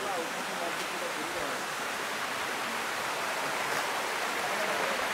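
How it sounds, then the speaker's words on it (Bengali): A waterfall on the Napittachara trail roars as a dense, steady broadband rush of falling water, loud and continuous throughout with no break or variation. "এই যে ঝর্ণা,"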